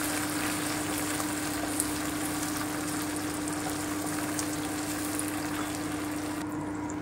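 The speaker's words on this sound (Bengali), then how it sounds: "আমি একটু ভেজে নেব, যতক্ষণ টমেটো থেকে কাঁচা গন্ধটা না যাচ্ছে একটু ভেজে নিচ্ছি" Tomatoes frying in a pan for black pepper chicken: a constant, even sizzle close up with a faint steady hum beneath, no talking.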